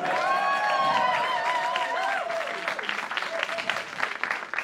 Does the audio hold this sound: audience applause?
yes